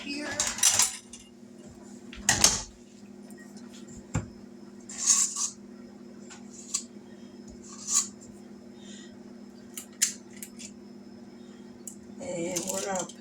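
Metal utensils rattled and clinked while a cookie scoop is pulled from a kitchen utensil holder, several sharp clattering bursts with short pauses between and quiet talk in places.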